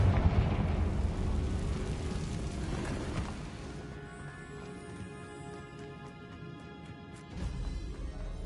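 Confringo spell blast in Hogwarts Legacy, a loud rumbling crash with crumbling debris that fades into a ringing, tonal magical resonance, with a second burst near the end.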